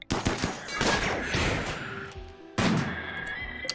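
Auto-charge turrets in RimWorld fire in rapid, loud bursts of cracking shots, one tight volley at the start and another sharp burst a couple of seconds later.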